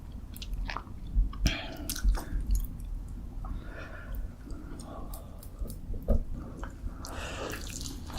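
Close-up chewing and biting of spicy fried chicken topped with mayonnaise, with moist, squishy mouth sounds and crunchy bites repeating in an irregular rhythm over a low steady background hum.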